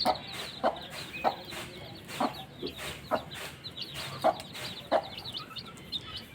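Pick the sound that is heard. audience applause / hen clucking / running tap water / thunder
hen clucking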